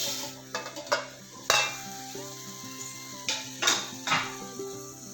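Sweet pumpkin cooking in ghee in a pan, stirred with a utensil: soft sizzling under repeated scraping and clinking strokes against the pan, close and fairly quiet, with no talking.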